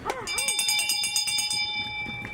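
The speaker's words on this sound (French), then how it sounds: "on va donc sonner la cloche pour ce dernier tour" A bell rings out in rapid repeated strokes to signal the final lap of a trotting race at a racecourse in Tahiti. It sounds clear and sustained over a murmur of background voices.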